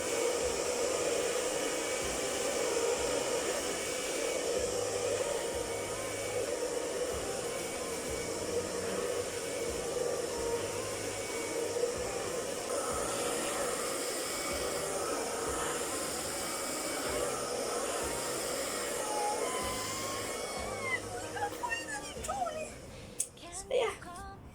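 A hair dryer blows continuously while short natural hair is blow-dried at home, a steady airy whoosh that stays fairly even and breaks up with handling noises near the end.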